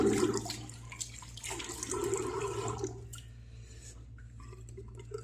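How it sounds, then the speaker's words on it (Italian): Lukewarm water draining from a bathroom sink after shaving, a close gurgling, splashing flow with a low steady hum beneath that tapers off toward the end. "Allora scarichiamo, togliamo quest'acqua tiepida,"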